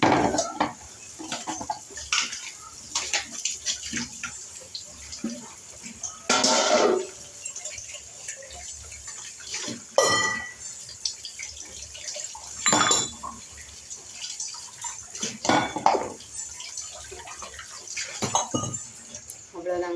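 Vessels and pots being washed by hand in a home kitchen, with irregular metallic clanks, scrapes and splashing water coming in bursts, some knocks loud and close, with faint quiet stretches between.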